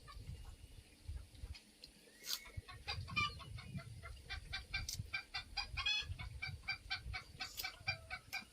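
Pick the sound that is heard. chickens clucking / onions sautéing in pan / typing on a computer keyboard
chickens clucking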